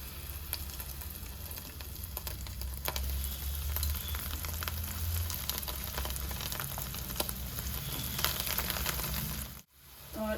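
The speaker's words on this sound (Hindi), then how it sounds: "इधर घी भी हमारा गर्म हो गया है, और इसमें हम डाल देते हैं ब्रेड के पीसेस" Bread pieces fry in hot ghee with a steady crackling sizzle and occasional stirring scrapes, close and continuous until it cuts off near the end.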